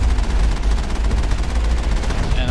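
Enemy gunfire in the video game Mass Effect pounds against a cover wall, a dense, loud, unbroken automatic barrage that runs throughout.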